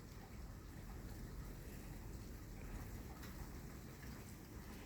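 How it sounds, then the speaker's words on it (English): Steady rain falls in a continuous dense patter after snow in southeastern Pennsylvania, with a constant wash of noise and no voices. "is that wind or is that rain? Yeah, it's just a bunch of rain."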